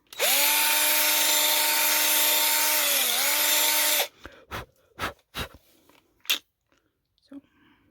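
A power drill whines loudly and steadily for about four seconds while enlarging a hole, its pitch dipping briefly under load, then stops, leaving scattered knocks and scraping handling sounds close by.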